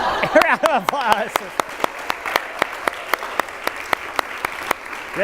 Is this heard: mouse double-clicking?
no